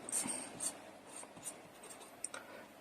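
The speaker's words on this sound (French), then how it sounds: "Et donc là, je vais pouvoir dessiner" Pen drawing on paper for a cartoon alien picture: soft, quiet scratchy strokes and small taps in an irregular rhythm, close up with nothing else audible.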